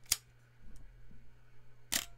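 A 35mm film camera's shutter fires twice at fast speeds, around 1/500 and 1/1000 second, each a sharp, crisp click, separated by a quiet gap of under two seconds.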